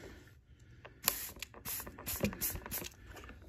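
Several short hissing bursts of Formula 409 cleaner from a spray bottle, close and crisp, with soft handling taps between them.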